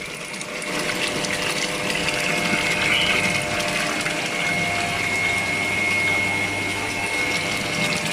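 Water keeps flowing into the drum of a faulty Samsung washing machine whose fill will not shut off, a steady close rush of inflow with a faint tonal whine above it.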